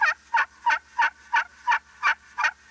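A slate turkey call stroked a little further in from the edge gives deeper, more resonant yelps, eight even notes in steady succession, near and distinct with no voices over them.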